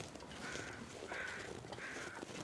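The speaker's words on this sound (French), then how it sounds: "J'entends le corbeau." A crow caws three times in the survival game The Long Dark, with evenly spaced, moderately distant calls over a soft wind-like background.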